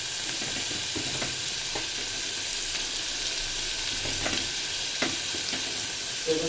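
Garlic frying in oil in a pan for a moong dal dish, a steady close sizzle and hiss with scattered light taps and stirring clicks and no voices.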